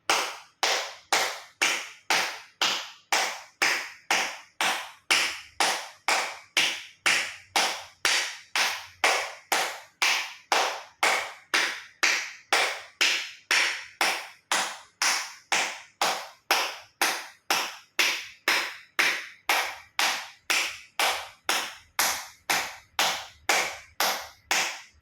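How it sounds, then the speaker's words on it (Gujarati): Loud acupressure clapping during a yoga health session, with palms and fingers struck fully together about fifty times in a steady, even rhythm, each clap sharp and distinct with short gaps between. "એક્યુપ્રેશર તાળી જોરથી હથેળી આંગળીઓ બધું ટચ થાય રીતે 50 વખત જોરથી તાળી આપીશું."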